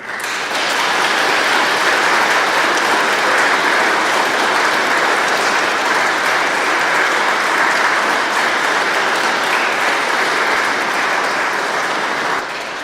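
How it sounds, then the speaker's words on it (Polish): Sustained, dense applause from an audience at a Katyn remembrance gathering, steady and loud for about twelve seconds before tapering off at the end. "jeszcze raz ogromne brawa"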